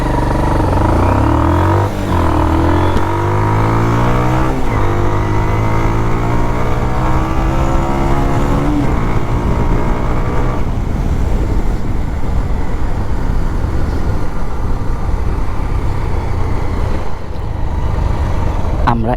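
A Bajaj Pulsar motorcycle accelerates hard toward 80 km/h, engine pitch climbing through several gear changes before settling into a loud, steady roar with wind rush, heard up close throughout.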